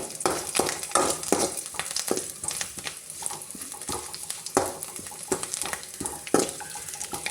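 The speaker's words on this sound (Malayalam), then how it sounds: "അങ്ങനെ ഉള്ളി മൂത്ത് വരുന്നുണ്ട്." Onions frying in coconut oil in a pan for a vatta fish curry, a steady close sizzle with scattered clicks and scrapes of stirring and faint utensil knocks, no voices.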